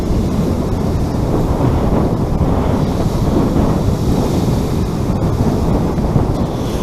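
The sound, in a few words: large sea waves rolling onto a Suffolk beach, with wind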